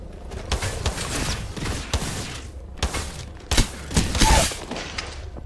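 Gunfire in Apex Legends, with scattered sharp shots and short bursts at irregular intervals, some near and some more distant, over game ambience without talk.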